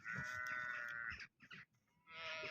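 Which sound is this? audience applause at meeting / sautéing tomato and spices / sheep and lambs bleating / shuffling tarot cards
sheep and lambs bleating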